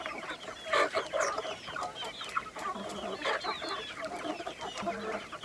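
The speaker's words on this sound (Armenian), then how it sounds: "Հավերս լեղաճակ եղան։" Hens cluck and squawk in agitated, uneven bursts close by, over a steady outdoor background with no talking.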